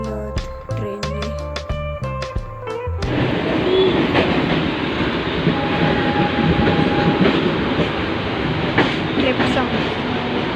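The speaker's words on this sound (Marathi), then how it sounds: "आम्ही परतीच्या प्रवासाला निघालेलो आहोत ट्रेनने." A passenger train rolls along on a return trip, a steady loud rumble with rhythmic clatter of wheels on the rails that continues throughout after a brief burst of other sound at the start.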